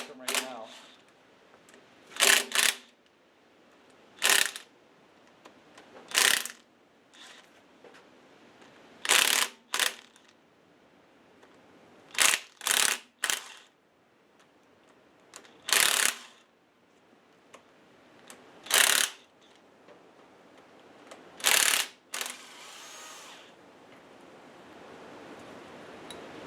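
Bolts are cracked loose on a classic Ford Mustang 302 V8 engine during teardown, giving a series of sharp, loud ratchet clicks and snaps in short bursts with quiet gaps between them.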